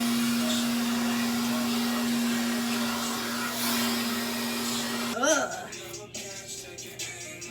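A hair dryer blows steadily on wet hair with a loud, constant whine, then cuts out partway through, leaving muffled handling sounds and quieter room noise.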